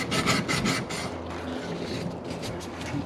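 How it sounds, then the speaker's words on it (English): A water heater pipe is sanded clean of paint, grime and loose solder, making close, rhythmic rasping strokes that repeat quickly at first, then continue as softer, steady rubbing. "Make sure that we're nice and sanded off here."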